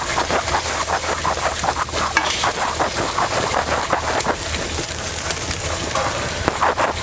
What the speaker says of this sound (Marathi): ह्यात जराच बेसन पीठ घालणार आहे सगळं असं मिक्स करून घ्यायचं